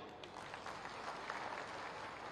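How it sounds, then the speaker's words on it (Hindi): A brief burst of crowd applause after the chief minister's speech at a development project inauguration event in Uttar Pradesh, steady, moderately distant clapping from a large audience. "एक बार जोरदार तालियों के साथ स्वागत, जोरदार तालियां"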